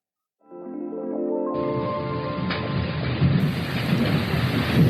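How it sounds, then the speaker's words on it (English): Torrential rain pours outside a Tokyo apartment, a dense, loud, steady roar of falling water with a low rumbling undertone, starting abruptly after a brief tonal sound and holding without pause. "That's the sound of rain outside of my apartment here in Tokyo."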